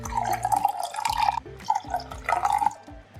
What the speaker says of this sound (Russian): Чайную ложку уксуса и вливаю воду.